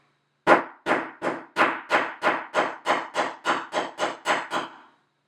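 A hammer strikes gold filigree laid on a metal stamping block, thirteen crisp, evenly paced taps ringing out close and loud with no voices.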